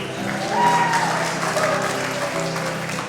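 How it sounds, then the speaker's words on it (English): A congregation at a Sunday worship service in Concord applauds Simon, a warm, sustained round of clapping that swells slightly early on over a faint tonal hum. "Little applause for Simon there."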